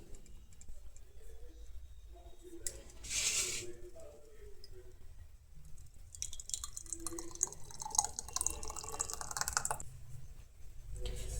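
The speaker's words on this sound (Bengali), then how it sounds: "আর চলুন এরপরে এটা ঢেলে দিই সসটা" Homemade tomato sauce is poured from a pan into a small glass jar, quiet close-up drips and liquid trickles with light clinks and taps between pauses.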